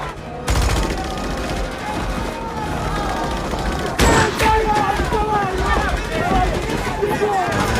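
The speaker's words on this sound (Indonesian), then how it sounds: "Sasha mengeluarkan pistol dan menembaki petugas yang sedang sibuk menembaki Slow-mo" Gunfire in a film scene of a Nazi camp escape as a pistol fires on guards who are shooting: loud rapid volleys and sharp cracks under a tense score, with a heavy blast midway.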